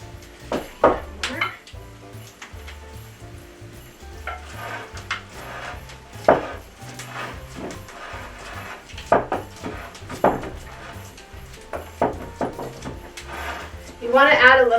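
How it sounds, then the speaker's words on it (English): Plum pudding mixture packed firmly into a bowl in a historic holiday kitchen, giving a run of dull, irregular thumps and scrapes at close range with occasional sharper knocks, rising to a busier clatter at the end. "And you want to pack it into your bowl"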